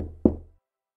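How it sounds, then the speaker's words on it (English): A single firm knock on a wooden door, a storybook sound effect, lands sharply and decays quickly into silence, close and clear with no voices. "Soon Little Red Riding Hood came and knocked on the door."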